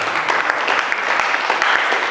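An audience claps at a GAMA FURY ceremonial fight weigh-in: dense, continuous applause from many hands, loud and close, holding steady for the whole stretch.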